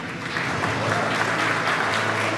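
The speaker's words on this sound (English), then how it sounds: "please feel free to keep the claps coming" A conference audience at a business event in Mumbai claps steadily after the host invites them to applaud, a dense, even wash of applause that holds at the same level throughout.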